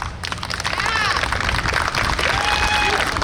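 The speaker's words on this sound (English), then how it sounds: "I need to know by applause here" A crowd claps and cheers at a New York State Police underwater recovery team demonstration, a steady wash of applause swelling quickly and holding at full volume.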